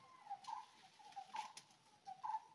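Birds call in a dense, silent forest, a high whistled note repeating about three times at a gentle, even pace. The calls are faint and distant against a very quiet background, with no talking.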